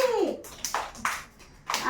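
Preschool children clap their hands in a few scattered, uneven bursts, close by, while a voice is heard between the claps.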